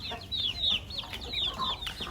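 Chicks cluck softly and chirp close by in short, overlapping bursts while eating mashed feed, with faint pecking and rustling underneath.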